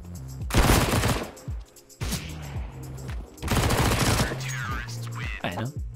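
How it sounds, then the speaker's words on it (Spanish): Rapid bursts of MP7 submachine gun fire in a first-person shooter game, two dense volleys of shots, loud and close, with game tones and effects in between. "Con una MP7 me destruyó el pecho, ¿eh? Me metió como 8 tiros en el pecho en un segundo."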